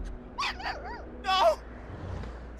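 A dog in a video game whimpers in short high whining yelps, followed by a louder bark, fairly close against a quiet background.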